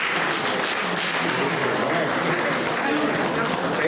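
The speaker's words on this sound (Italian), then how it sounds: "Un applauso a Oriana." Audience applause at a poetry competition, steady continuous clapping from a room of people with voices mixed in beneath it.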